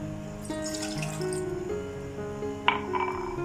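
Water is poured from a glass into a cooking pot on a medium flame, a short splashing trickle close by with a brief louder splash near the end, over a quiet kitchen background.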